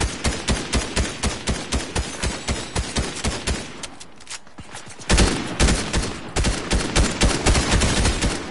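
Rapid, rhythmic bursts of gunfire in the video game Fortnite, loud and close, pausing briefly near the middle before resuming even harder. A shotgun figures in the fight. No talk is heard.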